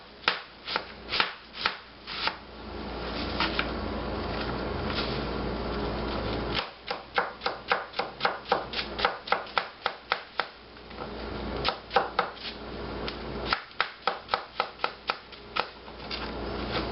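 Knife rapidly chopping egg roll filling on a cutting board, crisp near taps in quick rhythmic runs separated by brief pauses, with no talking.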